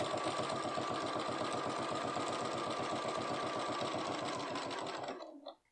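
A BERNINA B570 Quilters Edition sewing machine stitches rapidly through several thick layers of coat fabric, a fast steady mechanical chatter close by that stops abruptly near the end.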